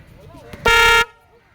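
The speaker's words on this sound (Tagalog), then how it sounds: "Busina, parang busina ng traffic." A game buzzer at a basketball elimination match, a single loud, flat horn-like blast about half a second long with a rich harmonic tone, cutting in sharply above faint background noise and stopping cleanly.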